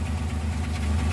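A multicab's engine idles with a steady, close, low mechanical chug while a brake vacuum leak drags the RPM down, keeping a slightly uneven knock-like pulse. No talking is heard.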